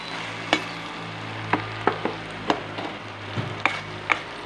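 Coconut buko mixture being stirred in a pan while cooking, with a steady low hiss and several sharp scraping knocks of a spoon against the pan spaced through the clip.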